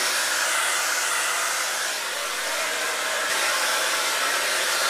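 A hair dryer on high heat and high speed blows a loud, constant broadband rush of air while drying hair, with no voices.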